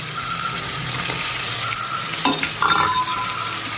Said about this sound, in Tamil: புதினாவை போட்டு வதக்கணும். அப்போ தான் நல்லா வதங்கணும்.